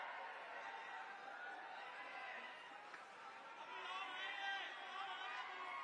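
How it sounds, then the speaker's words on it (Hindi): A large crowd gathered at a political rally for Arvind Kejriwal during the Punjab election, a continuous distant murmur of many voices blending into a steady wash of chatter. "बहुत सारे लोग आ गए, बहुत भीड़ है"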